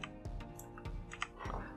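Quiet keystrokes on a computer keyboard, a few separate taps spread over under two seconds, faint and close with no talk.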